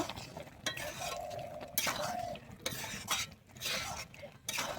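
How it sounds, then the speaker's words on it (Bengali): A spoon stirs ghee into a Bengali-style mixed vegetable dal in a pot. Scraping and clinking strokes come close and uneven, with short pauses between them. "আমি ঘিটা দিয়ে আবার খুব ভালোভাবে মিশিয়ে নেব"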